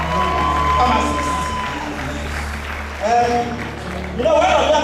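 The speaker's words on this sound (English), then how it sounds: "Please, another round of applause for Deanship" Crowd at a university pharmacy oath-taking and induction ceremony applauds and cheers, with shouts and voices rising over steady clapping and a low hum.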